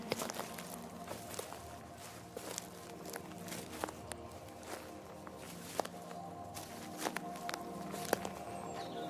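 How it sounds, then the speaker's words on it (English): Soft footsteps crunch over leafy forest ground in a steady, unhurried walking rhythm, with scattered sharper snaps, set beneath a gentle layer of soothing background music. "It's Pip the Savvy Sapling's footsteps"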